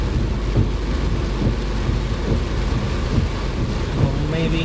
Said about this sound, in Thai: ฝนตกแรงมาก